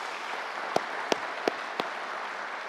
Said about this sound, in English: Round of applause for Mick again.